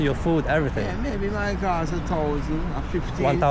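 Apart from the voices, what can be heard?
None of the usual background noises is heard.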